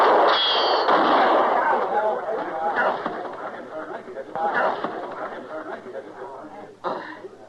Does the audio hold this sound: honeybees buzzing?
no